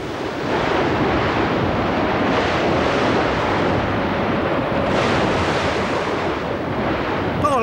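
Stormy sea surf and howling wind in a cartoon, a loud continuous roar of crashing waves and gusts with no pauses, rising briefly in intensity partway through.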